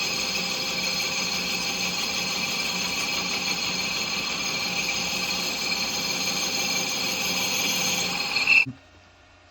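A lathe takes a facing cut across a rusty classic Mini clutch backplate, giving a steady, loud machining whine with a constant hum underneath. It runs evenly for most of the time, then cuts off abruptly near the end.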